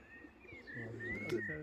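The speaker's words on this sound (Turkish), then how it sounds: "Evet arkadaşlar kuşumuz geldi." A racing pigeon arrives home at its loft and coos softly nearby in a short, low, rolling call, with faint background sounds around it.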